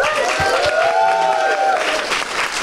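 A crowd at a live Halloween special show bursts into applause with some cheering, dense and sustained, a whistle-like tone riding over the clapping.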